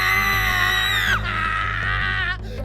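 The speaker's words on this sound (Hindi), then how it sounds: "जंगल की उस भयानक शांति में अचानक से चीखें गूंजने लगी।" Screams echo through a forest at midnight, long, high and wavering, rising and breaking off, then trailing into a reverberant wail over a low droning background.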